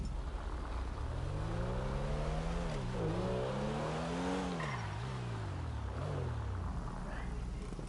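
An RWB Porsche in GTA Online, its engine revving up and down in several rising and falling sweeps, fairly quiet and steady throughout, with a voice talking over it.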